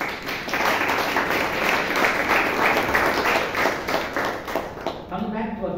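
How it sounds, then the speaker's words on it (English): Toastmasters meeting audience in Bangalore clapping for narrators and speakers, a steady round of applause from a room of people that thins out at the end as a voice begins speaking. "Let us give a good applause to all the four narrators and all the four speakers."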